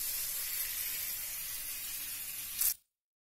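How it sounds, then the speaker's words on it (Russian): Flour-dredged fish sizzles loudly in hot oil in a frying pan, a bright continuous hiss that flares briefly and then cuts off abruptly. "Поместили на сковороду, обжариваем теперь по минуточке с каждой стороны."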